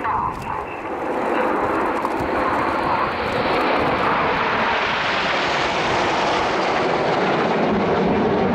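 RAF Red Arrows jets roar past at the Royal International Air Tattoo air display, a loud broad engine rush building and holding as the formation passes, with a commentator speaking over it.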